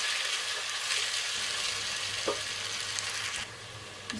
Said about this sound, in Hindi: मैं जो 3 से 4 मिनट इसकी बुनाई करूँगी ताकि जो प्याज की वाइट जो लाइट गोल्डन हो जाए और आलू भी गल जाए